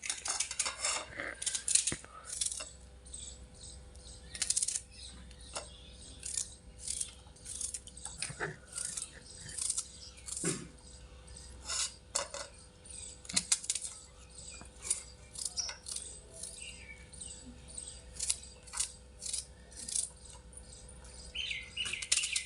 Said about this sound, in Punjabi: ਹੁਣ ਆਪਾਂ ਪਹਿਲਾਂ ਇਹਨੂੰ ਛੋਟੇ ਛੋਟੇ ਟੁਕੜਿਆਂ 'ਚ ਕੱਟ ਲਾਂਗੇ ਪਿਆਜ਼ਾਂ ਨੂੰ